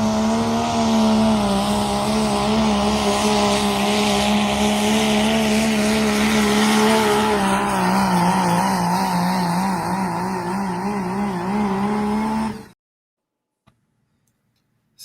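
A pulling truck makes its run at a Wisner truck pull, a loud sustained engine roar holding a steady drone for about twelve seconds before cutting off abruptly to silence.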